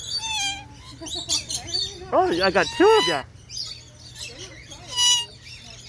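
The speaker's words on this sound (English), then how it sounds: "Hello, pretty bird." Small nectar-feeding birds chirp and tweet close by at a hand-feeding aviary at the Aquarium of the Pacific in Long Beach, their calls overlapping with someone talking to them over steady background hum.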